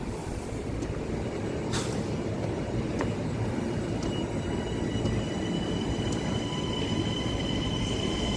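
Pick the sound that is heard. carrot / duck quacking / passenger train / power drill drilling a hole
passenger train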